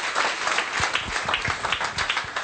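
Church congregation applauding during a sermon, a dense spread of clapping with a steady, moderately loud wash of many hands and no voices on top.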